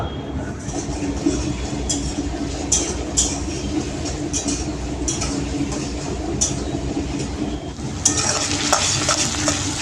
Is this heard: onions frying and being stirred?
yes